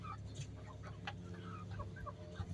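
Meat chickens around eight to nine weeks old cluck softly and intermittently at close range, short scattered calls over a low, quiet background hum.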